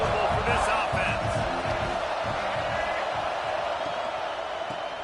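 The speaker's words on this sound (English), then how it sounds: "This crowd trying to make life miserable for this offense." A football stadium crowd sends up a loud, steady roar that fills the whole clip, with cheering swells and a commentator's voice over it.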